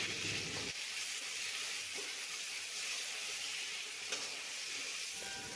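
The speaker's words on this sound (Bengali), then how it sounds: "এবার কেটে রাখা আমি টমেটো দিয়ে দিচ্ছি। পরিমাণ মতো লবণ, সামান্য হলুদ দিয়ে ভালোভাবে নেড়ে নিচ্ছি।" Tomatoes with salt and a little turmeric sizzle and fry steadily in a pan, a continuous loud hiss with occasional scraping stirs, no talking.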